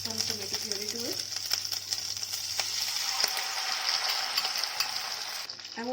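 Tomato puree sizzling in a hot pan with ginger garlic paste over a low flame, giving a steady close hiss and crackle with scattered clicks of stirring and a brief voice at the start.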